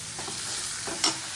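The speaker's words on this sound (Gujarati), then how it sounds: "તેલ ગરમ થઈ જાય એટલે સેજ એટલી હિંગ નાખી અને આ જે સમારીને નાખ્યું છે એ નાખી દેવાનું" Chopped vegetables dropped into hot oil with asafoetida, frying with a soft continuous sizzle and a few stirring scrapes, quiet and close, with no talking.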